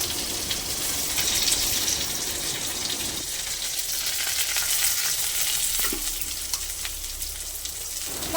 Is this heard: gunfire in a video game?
no